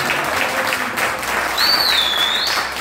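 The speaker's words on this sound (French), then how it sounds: "Acclame très très fort Jésus." A church congregation at a French-language service applauds and cheers in praise, dense steady clapping filling the room, with a high whistle or shout rising briefly near the end.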